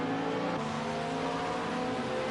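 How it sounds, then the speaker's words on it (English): Group C prototype race car engines rev hard at a grid-style start in a Le Mans racing video game, a dense, continuous high-pitched roar throughout. "I hear the engines revving up."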